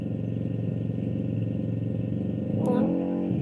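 A motorcycle engine runs steadily outside a room where a small tabletop Christmas tree is being made, droning continuously and swelling slightly louder near the end as it passes, with no talk over it.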